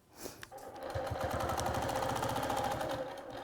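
A sewing machine stitches steadily at close range while quilting against a slotted ruler for 45-degree cross hatching, its rapid needle chatter running continuously after a brief start with no talk.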